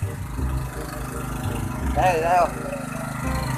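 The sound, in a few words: engine of machine drawing water from a well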